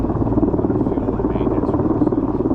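Steady, loud rotor thump of a nearby logging helicopter hovering, a low pulsing drone that fills the whole clip.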